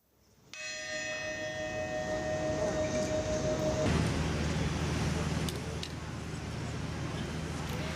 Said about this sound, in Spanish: estas campanas que acaban de escuchar sustituyen a las que fueron silenciadas por el incendio